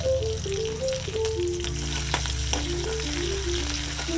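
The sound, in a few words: onions, green chillies, curry leaves sautéing in coconut oil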